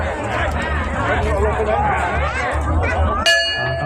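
A boxing ring bell clangs once near the end, signalling the round, its bright ringing tone cutting through a noisy, chattering crowd and steady background din.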